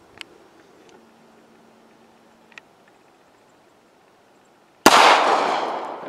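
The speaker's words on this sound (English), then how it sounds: "So we're gonna put a couple more rounds into it and see what we get here." A single loud, close gunshot is fired into a 3A bulletproof vest at five yards. It follows a few seconds of quiet with small metallic clicks, and the report rings out at the end.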